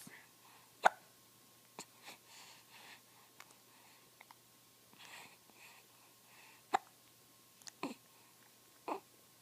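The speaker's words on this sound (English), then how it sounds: "See, I've got the hiccups." Someone hiccups several times at irregular intervals, sharp and close, with soft breathing and faint background noise between.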